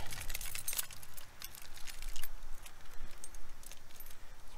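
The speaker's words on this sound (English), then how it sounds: "Got all the keys." A bunch of keys jangles and clinks repeatedly in hand while someone works through them at a 1992 Itasca Spirit motorhome, with sharp metallic rattles in quick bursts against a low background.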